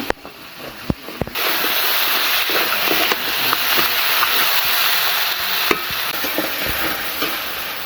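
Crab pieces are stirred with spices in a hot pan, making a continuous sizzling hiss with sharp knocks and scrapes of a spoon against the pan, close up and with no talk.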